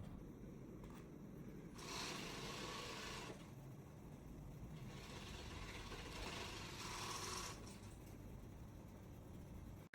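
A sewing machine stitches a tracksuit pocket in bursts of steady, close mechanical whirring that start and stop over a low background hum, with no talking.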